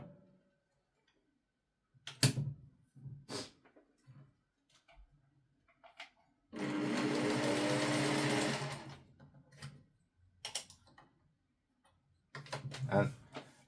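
Singer 401 sewing machine test-stitching while its thread tension is adjusted, one loud continuous two-second burst of close motor whir between scattered handling clicks and quiet pauses.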